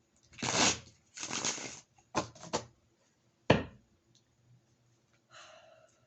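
Tarot cards are shuffled by hand in several short, close bursts of papery riffling separated by quiet pauses in a still room.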